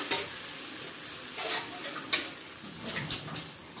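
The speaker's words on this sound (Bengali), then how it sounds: "গরম হয়ে গেছে, তখন আমি এই যে ধোকার ব্যাটারটাকে ঢেলে দিচ্ছি" Dhoka lentil batter poured into a hot pan and stirred, giving a gentle sizzle with a few sharp scrapes and clinks, close and without talk.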